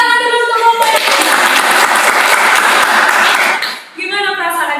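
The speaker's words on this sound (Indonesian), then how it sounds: "Tepuk tangan dulu untuk kelompok yang ini" A school class applauds a group of students, with a dense burst of clapping that rises sharply, holds steady for about three seconds and then fades. A voice speaks before and after the clapping.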